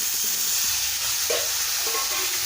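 Three chopped tomatoes are added to a hot pan after other ingredients have fried, producing a steady close sizzle and hiss with a few soft clicks and scrapes, no voices.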